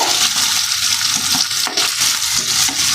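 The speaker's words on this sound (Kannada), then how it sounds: "ಸೊ ಸ್ವಲ್ಪ ಫ್ರೈ ಅಂದರೆ ರೋಸ್ಟ್ ಆಗೋ ಥರ ಚೆನ್ನಾಗಿ ಫ್ರೈ ಮಾಡ್ಕೋಬೇಕು." Vegetables for Hakka noodles, potatoes among them, fry hard over a high flame, giving a loud, close, continuous sizzle and hiss with brief surges as the pan is stirred or tossed. No voices.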